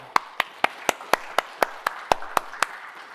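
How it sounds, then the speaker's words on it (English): Crisp, evenly spaced claps ring out at a keynote session, about four per second in a steady beat, loud and distinct against a quiet room with no talking. "So a hand of applause for Walt."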